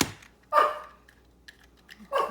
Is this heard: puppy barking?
yes